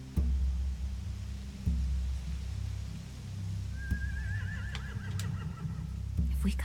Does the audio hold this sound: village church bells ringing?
no